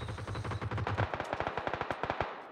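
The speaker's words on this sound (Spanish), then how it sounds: "¿Quién está disparando?" Rapid automatic gunfire in the battle royale game PUBG, a dense burst of closely spaced shots followed by a string of separate, sharper single cracks, fairly close and loud with no talk over it.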